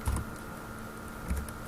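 Soft keystrokes on a computer keyboard while entering a value into road design software: a few quiet clicks with a pause between, over a steady hum.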